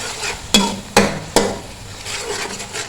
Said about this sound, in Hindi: और मसाले को अच्छे से भून लेंगे